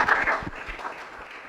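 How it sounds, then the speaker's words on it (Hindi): Applause from a comedy show audience greeting comedian Keshav Jha at Tilaiya's Got Latent, starting loud and fading to a softer, scattered clatter within a second and a half. "सो यार तालियां रुकनी नहीं चाहिए।"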